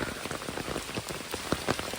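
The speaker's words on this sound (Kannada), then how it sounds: "ಹೆಂಗೆ ಮಳೆ ಹೊಡಿತಿದೆ ನೋಡಿ" Heavy monsoon rain in Koppa, Malenadu, pelting a surface close by, a dense patter of drops with a few louder splashes standing out.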